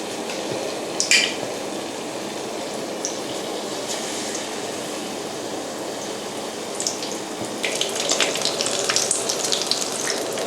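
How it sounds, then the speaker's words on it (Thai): Oil sizzles and crackles steadily as battered onion rings deep-fry, with occasional louder pops and spatters, close and continuous. "ทอดให้เป็นสีเหลืองทอง น่ารับประทานนะคะ"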